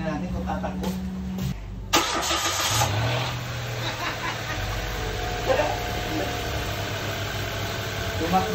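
A Mitsubishi Mirage car engine, freshly fitted with cleaned spark plugs, cranks and catches after a short pause, then settles into a steady, close idle with a few slight rises in revs.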